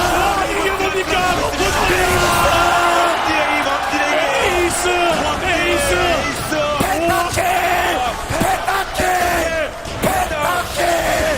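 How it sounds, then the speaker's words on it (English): An esports player yells at full volume over a loud, cheering arena crowd during a competitive match, the shouting and roaring blending into a dense, continuous wall of noise. "when I hear this dude scream pentakill at the top of his lungs"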